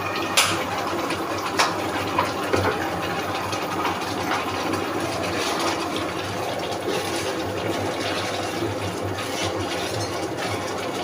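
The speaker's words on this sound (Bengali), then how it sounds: "এখন আমি এর সঙ্গে দিয়ে দেব পরিমাণ মতো সয়া সস।" Soy sauce poured into a pan of well-cooked spice mixture, giving a steady wet pouring and sizzling hiss with a few small clinks, continuous and close throughout.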